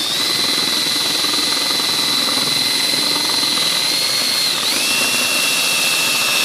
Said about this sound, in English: take this drill bit, walk a little bit more off.